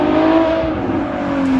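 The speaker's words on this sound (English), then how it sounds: "That is an exhaust right there." A Ferrari F12 fitted with a Frequency Intelligence exhaust drives past, its loud engine note holding a steady tone and then sliding slightly lower over under two seconds, with no voices.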